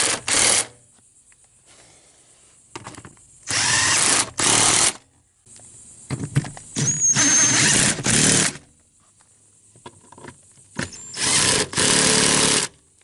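A power tool tightens the four passenger seat bolts in a Toyota Sequoia during a leather seat replacement, its high whirring coming in several sharp bursts of a second or so, separated by quiet pauses.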